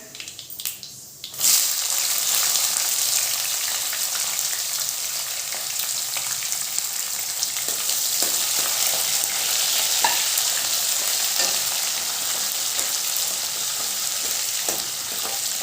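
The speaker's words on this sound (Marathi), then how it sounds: "आपण कांदा टाकूया" Onion added to hot oil in a kadhai for sambar: a quiet moment, then a sudden loud hiss that settles into a dense, continuous sizzle with occasional stirring scrapes and crackles, close and without talk.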